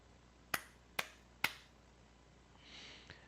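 Three sharp, evenly spaced hand claps ring out close and crisp in a quiet room, followed by a faint rustle.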